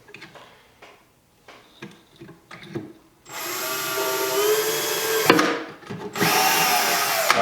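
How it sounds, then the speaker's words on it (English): Power drill pre-drills holes into a wooden inset drawer face, two loud sustained whirring bursts following some quiet handling taps and clicks. "I'll pre-drill that so I don't split the drawer face out."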